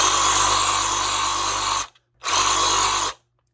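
A Ryobi 18V cordless reciprocating saw runs free with a buzzing, rattling motor whine, in two loud close bursts, the first nearly two seconds long, then a short pause and a second run of about a second.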